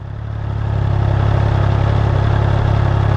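Steady mechanical idle of a Triumph Trident 660 three-cylinder motorcycle, an even low throb that swells slightly at the start and then holds constant, close and alone.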